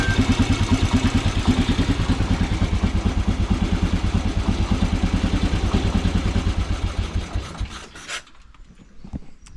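Norton Model 50 motorcycle with oil leaks idling close by, a loud rhythmic single-cylinder thumping that runs steadily, then the engine is switched off and stutters to a stop, leaving near silence.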